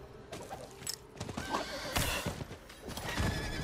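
A horse in the video game Diablo 4 whinnies loudly over the clip-clop of hooves at a quick pace, with thuds and gear noise, and no talking.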